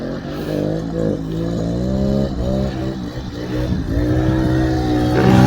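An old small-engine vehicle with a clogging petcock and fuel tank trouble runs steadily nearby, its engine note rising and dipping with throttle and growing louder toward the end, no talking.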